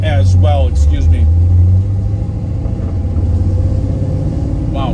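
A 1967 Pontiac Firebird's engine runs with a steady, close low rumble that continues throughout while someone talks over it.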